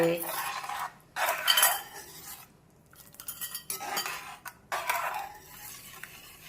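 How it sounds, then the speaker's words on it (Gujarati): A spoon clinks and scrapes around a pot as cornflour is stirred into boiling manchow soup, in loud, irregular bursts separated by short quiet gaps. "આ ઉકળતા સૂપમાં ધીમે ધીમે કોર્નફ્લોર નાખતા જઈએ અને હલાવતા જઈએ"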